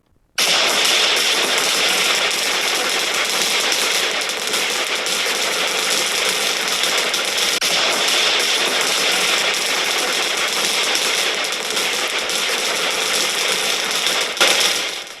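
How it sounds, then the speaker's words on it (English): Thousands of bottle rockets and firecrackers explode nonstop at a Taiwan fireworks festival, a dense, loud, continuous crackling barrage with no pauses. "A beehive of thousands of bottle rockets erupts, launching fireworks in every direction, and at you."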